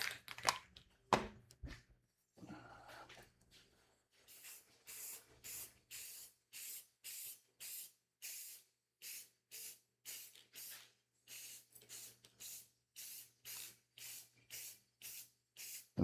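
Clear coat is sprayed over a painted piece in a series of short, quiet hissing bursts. After a few longer blasts, about twenty quick, evenly spaced spritzes follow, close by and without speech.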